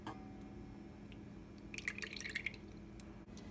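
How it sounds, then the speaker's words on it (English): Buttermilk poured into cake batter in a quiet kitchen, heard as a brief, faint wet glugging and dripping in the middle. "Now we need 1 cup of buttermilk. Go ahead and dump that in there."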